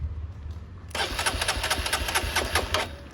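Honda CRF150L dirt bike fitted with an Exos X6 exhaust with the silencer removed fires up after a short crank, then settles into a loud, raspy, uneven idle heard up close.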